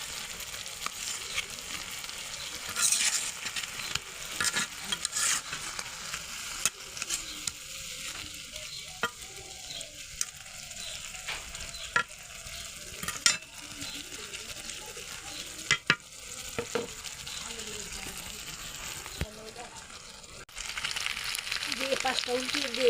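Fish paturi cooks in a pan over low heat with a soft, continuous sizzle, interrupted by occasional clinks and scrapes of a utensil, while a person speaks.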